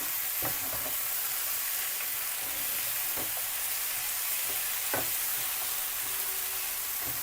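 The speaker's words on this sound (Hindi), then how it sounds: "1-2 मिनट के लिए और भूनेंगे इसको।" Haleem ingredients fry in a pan with a steady, even sizzle throughout, broken by a few soft scraping clicks as they are stirred; close and moderate in level, with no voices.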